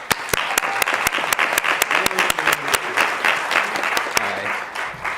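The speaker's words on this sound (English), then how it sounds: "Y'all give him applause." Scattered clapping from a small group at a hall of fame ceremony, sharp individual claps rather than a dense roar, steady throughout, with faint murmuring underneath.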